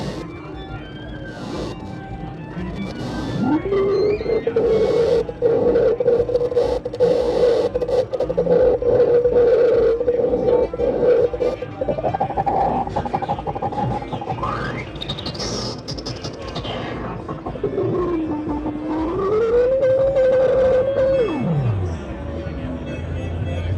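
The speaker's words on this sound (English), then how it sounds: "I'm sweeping through the filter modes of the FT201." A resonant synthesizer tone through a Koma Elektronik FT201 filter, sweeping from low pass to band pass to high pass, gliding up and down and changing brightness and character over a steady buzzing bed.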